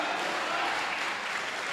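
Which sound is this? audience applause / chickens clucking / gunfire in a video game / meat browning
audience applause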